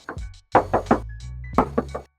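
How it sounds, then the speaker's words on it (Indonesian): Knuckles rap on the metal body panel of a 2023 Suzuki Baleno hatchback facelift, with two quick bursts of three close, hollow knocks and a single tap before them. "sekarang aku coba tes ketok dulu ya"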